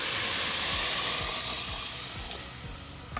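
Water is poured into a pot of chicken soup with vegetables, producing a loud, close hissing sizzle that rushes at first and then fades gradually over about three seconds, with no speech.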